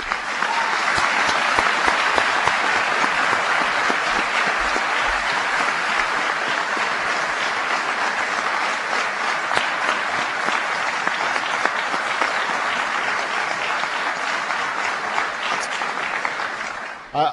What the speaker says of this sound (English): Please give a big round of applause to Virginia's own John Warner and Jim Wade